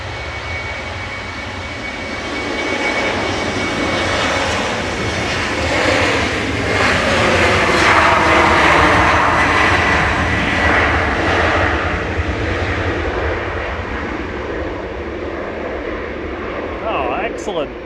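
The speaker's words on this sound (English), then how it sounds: "EasyJet coming in from Isle of Man." An EasyJet jet airliner arriving at Manchester Airport, its broad engine roar swelling steadily to a peak near the middle and lingering, with a voice speaking over it.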